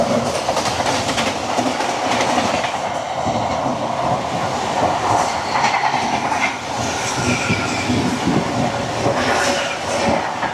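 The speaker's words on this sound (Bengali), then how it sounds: "আর এবার আমাদের সঙ্গে দেখা হবে ট্রেন নাম্বার 12703 ফলাকনুমা সুপারফাস্ট এক্সপ্রেসের সাথে" Falaknuma Superfast Express, train 12703, with LHB coaches and its locomotive rolling past, a steady loud rumble with continuous clickety-clack of wheels over rail joints throughout, close by.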